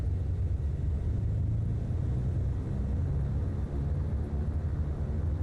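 A steady, loud low-pitched propeller airplane engine drone with a deep rumble as the left engine throttles up in Microsoft Flight Simulator 2024, holding constant throughout with no voices.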